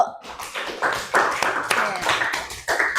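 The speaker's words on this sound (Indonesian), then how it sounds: "Kasih tepuk tangan dulu" Children in a classroom clap their hands together in a brisk burst of applause, uneven and close, with some voices mixed in.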